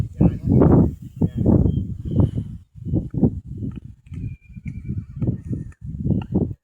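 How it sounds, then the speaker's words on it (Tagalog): A horse at an outdoor tree-planting site neighs and clops its hooves in a run of strong rhythmic bursts close by, with people's voices mixed in. "Uli, yung kabayo yun."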